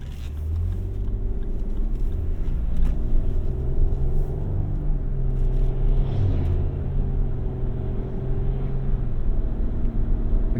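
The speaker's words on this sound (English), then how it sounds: "The gears are really close ratio, as you can hear and see." A 2024 Lexus GX 550 accelerating through close-ratio gear shifts, a steady loud engine rumble heard from inside the cabin with rising and settling tones and no talking.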